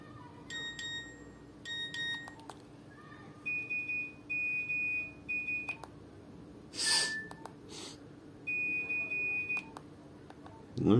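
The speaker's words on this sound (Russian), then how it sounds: "Есть сигналы сообщений." Nokia 105 mobile phone cycling through its built-in message alert tones: short electronic beeps and longer steady synthetic tones in separate bursts, clear and fairly quiet, with no talk over them.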